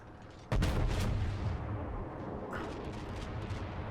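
A battleship's main guns fire in the naval game World of Warships, a sudden deep, booming salvo followed by a long rumbling roar, with another distant shell rush a moment later.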